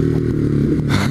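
Ducati Hypermotard 939 motorcycle riding a dirt road on knobby tires, its engine a steady loud drone with harmonic rumble and slight clatter, close to the microphone and with no talking.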